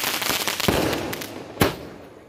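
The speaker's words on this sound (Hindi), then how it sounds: "इसमें कुछ शॉट्स है इसमें फटने के बाद ऊपर छोटी छोटी आवाज़ आती है" Diwali sky shot fireworks burst in two sharp booms, each followed by a wash of faint crackling that fades out.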